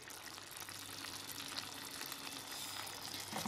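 Ghee sizzling in a pan of rice pulao, a steady close frying hiss that stays constant throughout with no talk.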